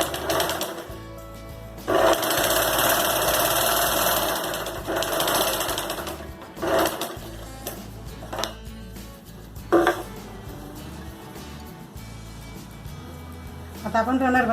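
A sewing machine topstitches a triangular samosa-style fabric pouch near its zipper: one long steady whirring run, then several short stop-start bursts, close and fairly loud, with a voice in the pauses.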